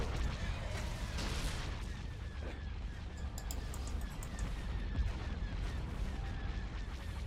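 Dense space-battle weapons fire from Star Wars: Empire at War, with rapid laser blasts and booming impacts that run continuously, loud and layered.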